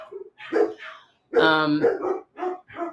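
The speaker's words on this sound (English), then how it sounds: "the dogs are very annoying." Dogs bark at close range in short bursts, with one longer, drawn-out tonal bark in the middle of quick, clipped yaps.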